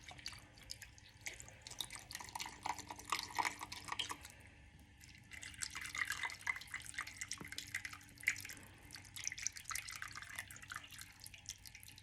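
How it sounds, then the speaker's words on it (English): Chicken broth is poured into a slow cooker all the way around, giving a soft, close trickling and splashing that comes and goes in quiet bursts. "And then I'm just going to pour some of that chicken broth in it."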